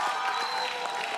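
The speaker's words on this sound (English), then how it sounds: "Round of applause." A brief burst of continuous applause and crowd noise from a television show audience, steady and fairly loud for about a second.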